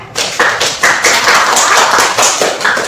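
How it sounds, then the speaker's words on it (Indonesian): A classroom of students claps together in a rhythmic unison pattern, sharp, loud repeated bursts of hand claps in a steady beat with no talking. "Kita kasih tepuk tangan dulu untuk Vivian dengan Viren."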